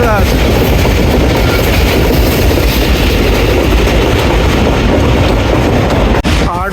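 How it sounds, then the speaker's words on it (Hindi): The 40 Down Jaffar Express rushes through a railway station without stopping, its loud, continuous roar of wheels and carriages filling the air close by with steady rumble and rattling. "40 टाउन जाफ़र एक्सप्रेस स्किप कर रही है वाह रेलवे स्टेशन को"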